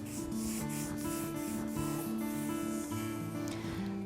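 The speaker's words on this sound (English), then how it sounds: "I use that part of my hand and rub over the edge" A hand rubs marzipan smoothly over the top edge of a covered cake, a soft continuous rubbing texture sitting beneath steady background music with sustained tones.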